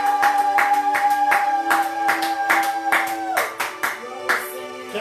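Church congregation applauding together: dense, rhythmic clapping from many hands, loud and close, with sustained musical tones beneath that thin out as the applause tapers.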